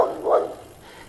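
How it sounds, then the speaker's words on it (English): Dogs barking angrily along a steep hill road in the Italian Alps, heard during a cycling trip from Sondrio to Vezza d'Oglio; two short barks come close together, moderately loud, and then fade. "The dogs are angry."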